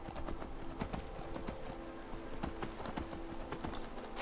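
Horse hooves clip-clop in the video game Skyrim as a mount is ridden along cliffs, a brisk, even run of soft thuds with a faint whinny-like tone, moderately loud and without talk.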